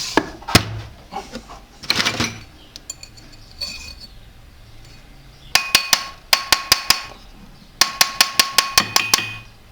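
A small jeweler's hammer taps a metal ring half-eternity band set with stones, bright sharp metallic ticks in quick close bursts of three to five strikes, with a few scattered single taps earlier.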